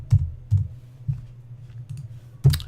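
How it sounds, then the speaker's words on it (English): Keyboard keys being typed at a computer, with five or six distinct clicks spaced irregularly, close and fairly quiet over a low steady hum. "I have no idea why I'm typing in all caps."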